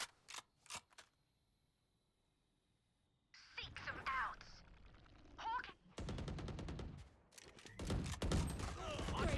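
Weapons fire during a Valorant college esports match, rapid bursts and sustained automatic shooting near and loud, broken by short pauses, with a shooter trying to hit an opponent through a wall.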